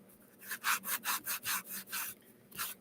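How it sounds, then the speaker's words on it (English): Rhythmic scraping of a sanding block rubbing back and forth across wood, about nine close, steady strokes with no talking. "take our sanding block and we're going to sand that in to make it look like the front."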